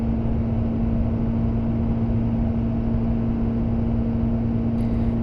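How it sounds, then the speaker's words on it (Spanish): A Benelli TRK 502 EU5 twin-cylinder 500cc motorcycle engine runs with a loud, steady, close drone and a constant low hum, with no talking. "llega el momento de arrancar este bicilíndrico de 500 centímetros cúbicos y empezar"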